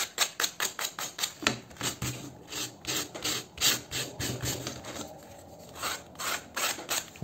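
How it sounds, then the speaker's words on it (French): Hand sanding with quick, rhythmic back-and-forth rasping strokes, close and fairly loud, repeating steadily for several seconds without any talk. "Un peu de ponçage, ça fait pas de mal."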